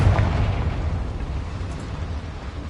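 A Confringo fire spell bursts in the Hogwarts Legacy video game, a loud, dense rumbling blast with a sharp onset that rolls on as a sustained low roar, no voices over it.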